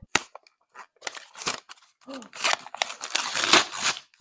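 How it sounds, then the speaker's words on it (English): Paper being torn and crinkled as a wrapped book is unwrapped, in sharp, irregular bursts of tearing and crumpling with brief pauses, close up and fairly loud. "Take it out. Unwrap it."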